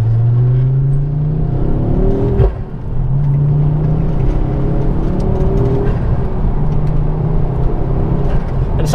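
A Ford Focus RS Mk2 engine pulling through the gears on a casual drive: a loud, close droning tone climbs in pitch, dips at each shift, then rises again over road rumble.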